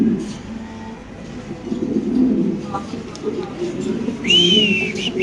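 Fancy pigeons, including a large red Mundian, coo with soft low rolling calls at a pigeon market in Bangladesh. Crowd murmur and nearby voices run underneath, and a brief higher whistle rises near the end.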